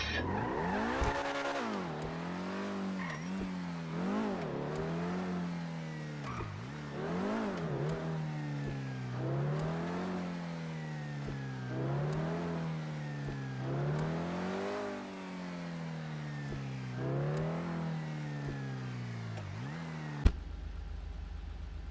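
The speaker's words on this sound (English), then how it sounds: "sports car number two, Obey 10F." Obey 10F sports car in GTA V Online, its engine revving up and dropping back in about eight repeated sweeping cycles, loud and alone, ending with a short click.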